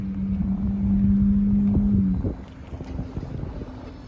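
A turbocharged Yamaha R6 motorcycle engine idles with a steady low hum and a sustained whine, then the whine cuts out and a rougher, ticking idle continues.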